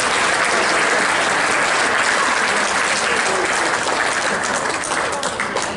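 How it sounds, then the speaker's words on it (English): A hall of fame induction crowd at Chadron State College athletics gives a loud, dense round of applause that holds steady and tapers slightly at the end. "If you could give them a round of applause for the work they did."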